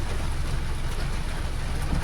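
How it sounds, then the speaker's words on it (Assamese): Steady rain pours continuously over Guwahati, a dense unbroken hiss with low rumbling underneath, no voices. "কণ্টিনিউ মাৰি আছে বৰষুণ এৰা নাই"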